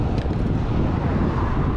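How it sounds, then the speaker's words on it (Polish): Strong headwind buffeting a cyclist riding an autumn Gran Fondo in Switzerland, a continuous loud low roar of wind rushing over the microphone with no gaps and no voices. "teraz tutaj coraz więcej w twarz wieje"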